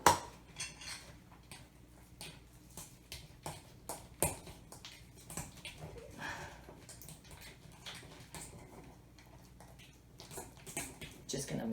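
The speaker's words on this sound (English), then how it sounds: "Just gonna mix it up well." Cream cheese wonton filling with garlic powder and cayenne being mixed in a bowl, with spoon clinks and soft scraping taps scattered through the stretch while a person talks over it.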